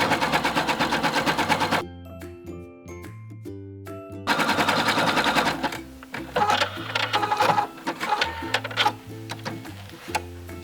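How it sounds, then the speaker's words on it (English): A sewing machine zigzag stitches to close a hole in a sweater being turned into a skirt, its rapid mechanical chatter loud and close and mixed with music, with a brief lull partway through. "with the zigzag stitch still, you're going to go ahead and sew up this hole."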